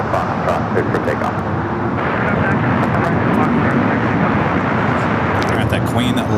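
Heavy airliner at LAX rolling for takeoff on runway 25 right, a loud, sustained engine roar with broadband rumble, joined by voices talking over it.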